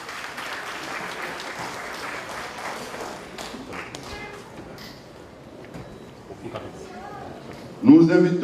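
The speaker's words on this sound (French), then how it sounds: "Encouragez-les, acclamez-les, s'il vous plaît" An audience at a ceremony applauds steadily, a dense patter of clapping in a hall that fades gradually, with a voice speaking over it and a loud thump near the end.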